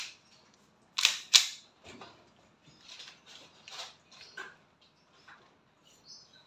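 A WE 2011 Hi-Capa 5.1 Type R semi-automatic airsoft pistol fires BBs during an accuracy test. Two sharp, close snaps come in quick succession, followed by scattered fainter clicks in otherwise quiet surroundings.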